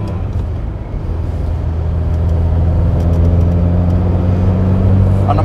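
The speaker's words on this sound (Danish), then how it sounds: "Karburatorlyden er en ganske særlig lyd." Ferrari 308 engine with carburetors pulling away in first gear, a steady low rumbling drone that rises slightly as the car accelerates, close and loud with no talking.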